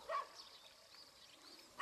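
A dog by Chungju Lake gives two brief barks, one at the start and one at the end. The barks sound fairly distant and soft, with quiet outdoor ambience between them.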